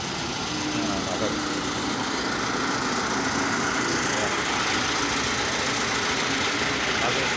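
A Riello G-10 burner, made in China and fitted to a bakery bread oven, blows fire with a loud, steady, broadband roar that holds unbroken throughout.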